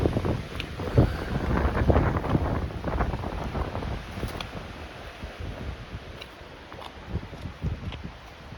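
Gusty wind sweeps across an Appalachian Trail overlook, buffeting the microphone with loud, low rumbling that swells and eases throughout, with no talk.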